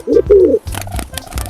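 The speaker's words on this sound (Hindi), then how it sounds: "ये है पिजियन। पिजियन को हिंदी में कबूतर कहते हैं।" A pigeon coos nearby, two clear throaty calls, then scuffling and rustling sounds.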